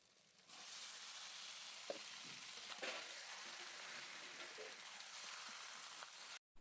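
Chicken meat for a Bengali-style curry sizzles steadily in a hot wok, a broad continuous frying hiss with a few faint clinks of the spoon, with no voices.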